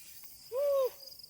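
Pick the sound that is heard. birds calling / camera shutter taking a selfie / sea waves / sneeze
birds calling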